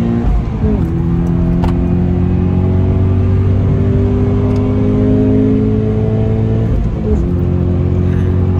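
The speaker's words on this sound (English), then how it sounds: "That was your clutch slipping." A car's engine drones steadily and loudly from inside the cabin while the clutch slips under acceleration, the pitch rising slowly and then dipping around seven seconds, with no talking.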